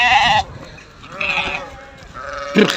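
A freshly shorn sheep in a village flock gives a few loud, close bleats with short gaps between them, and no one speaks over them.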